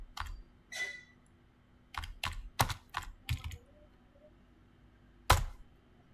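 Keystrokes on a computer keyboard enter the Oracle SQL*Plus command to turn spooling off: a few scattered clicks, a quick cluster of taps, then one last sharp key press after a pause, close and alone.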